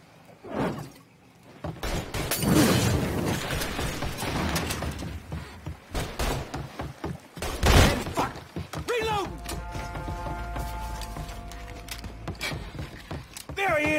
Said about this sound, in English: Light him up with a Molotov.